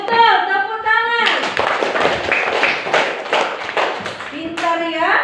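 Children clap together in a primary school classroom, a loud, close burst of rhythmic clapping lasting several seconds, with speaking voices just before and after.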